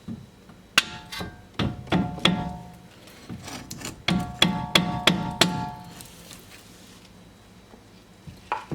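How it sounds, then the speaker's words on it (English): Hammer blows knocking two bolts out of a strut and knuckle on a Chevrolet Cruze ring out in irregular bursts of sharp metallic strikes, some in quick clusters, with pauses between, close and fairly loud. "Okay, now we could carefully hammer the two bolts out here."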